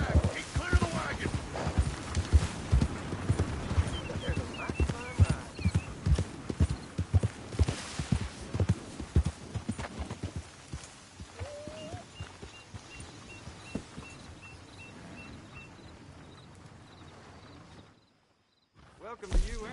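Horse hooves clip-clopping in Red Dead Redemption 2, a fast, close run of hoofbeats for about ten seconds that then thins to a few fainter steps among quieter game ambience and brief tones.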